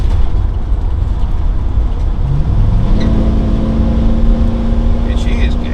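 A 2005 Roadtrek 210 Class B camper van accelerates on a highway while passing a truck, a loud steady road and engine drone with a rising whine partway through.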